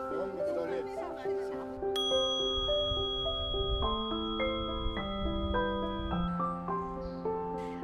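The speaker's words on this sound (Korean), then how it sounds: "맑은 종소리 따라 마음도 편안해지는데요" Clear ringing bells at a Buddhist temple in Hwabuk-dong, Jeju City, struck in a sequence of bright, sustained tones that overlap and decay, with soft background murmur beneath.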